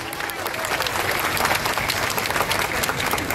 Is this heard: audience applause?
yes